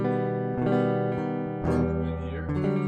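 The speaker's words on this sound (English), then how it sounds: "So the first bottom 4 string chords will sound like this." Acoustic guitar strumming rhythm chords on the bottom four strings, a few steady strokes ringing out close and clear with no talking.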